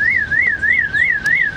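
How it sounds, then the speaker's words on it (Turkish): A car alarm wails in a steady rising-and-falling siren, loud and close, cycling five times without a break, apparently a malfunctioning alarm sounding on its own. "arabanın alarmı bozulmuş herhalde"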